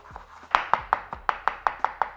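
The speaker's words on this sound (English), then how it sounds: "I am going to chop some fresh parsley so we can add on there" A knife chops fresh parsley on a board in about ten crisp, evenly spaced strokes, close and clear with nothing else heard.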